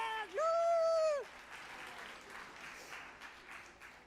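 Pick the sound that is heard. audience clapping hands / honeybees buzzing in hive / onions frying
audience clapping hands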